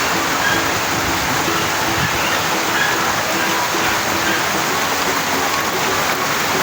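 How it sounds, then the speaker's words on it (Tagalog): Heavy rain pours steadily in a dense, loud, unbroken hiss, close and constant throughout without any voices. "Grabe ang lakas ng ulan mga kababayan."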